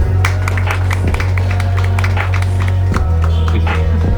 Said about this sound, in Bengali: চলেন আমরা সবাই করতালি দিয়ে ম্যাডামের বাবা মাকে অভিনন্দন জানাই